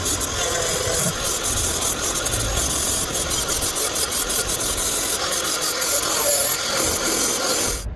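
Paint being scraped and rubbed off the steel bodywork of a diesel show car, a close, continuous harsh rasping that runs unbroken throughout with no pauses.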